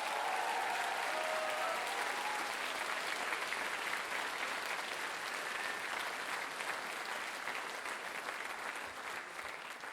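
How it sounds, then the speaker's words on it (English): A large audience at a school's 60th anniversary celebration applauds for a host, a continuous, even wash of clapping heard from some distance at low level, steady throughout ten seconds. "A huge round of applause for Rob Rinder, MBE."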